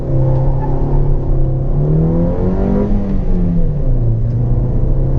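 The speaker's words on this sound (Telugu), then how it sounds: "హై ఆర్పిఎంలో వెళ్తున్నప్పుడు ఒకటి మనకు ఇంజన్ నాయిస్ అనేది అయితే క్లియర్గా తెలుస్తుంది" A Maruti Suzuki XL6 engine revs hard and steadily at high RPM during a test drive, its pitch rising and falling in a loud, continuous drone.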